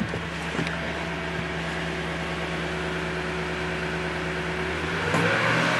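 A 2010 Toyota Tundra pickup with a CNG conversion, running close by in a steady hum that climbs gently as the engine is revved toward about 1500 RPM, ending in a brief lift near the end. No talk.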